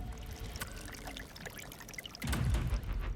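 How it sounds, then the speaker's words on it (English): Meltwater streams pour down into crevices of the Gulkan Glacier in northern Pakistan, a steady trickling and splashing that swells into a louder, fuller gush near the end. "Streams of water run down into the crevices, collecting at the bottom of the glacier."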